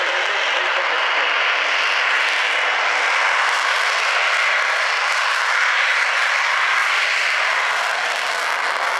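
Avro Vulcan jet bomber engines at an air display at Waddington, a steady loud roar with a broad rushing hiss held without break throughout, no voices.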